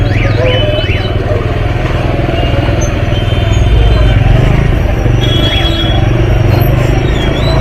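A motorcycle with a faulty gear sensor is ridden in first gear through a crowded Sunday market, its steady low engine drone continuous beneath busy street noise, traffic and voices.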